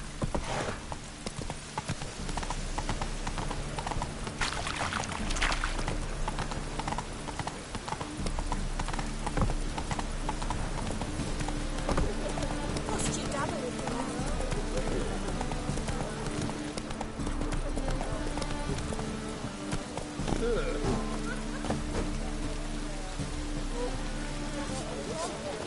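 Horse hooves clip-clop steadily in The Witcher 3, with a rhythmic trot continuing for the whole stretch over low ambient game sound, and a brief whinny possible.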